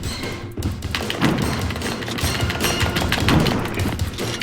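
A magnum and other guns fire in a Resident Evil game, a dense, muffled run of repeated shots and thuds that rolls on steadily at moderate loudness.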